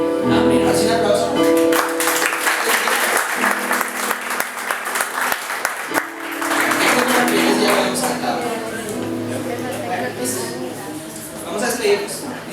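A church congregation applauds loudly at the close of a Sunday service, steady dense clapping for several seconds that thins and tapers toward the end, with voices mixed in.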